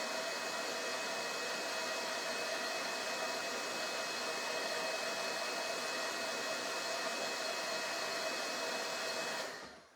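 A hair dryer blows steadily and loudly on a rice paper craft piece, a constant close whoosh that runs nearly ten seconds before cutting off abruptly at the end.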